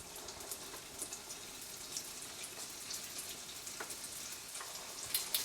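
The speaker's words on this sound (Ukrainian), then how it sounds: "Смажуться вони дуже швидко." Doughnuts frying in a pan of hot oil, giving a soft, steady crackling sizzle with scattered sharper pops, faint and close, without any voices.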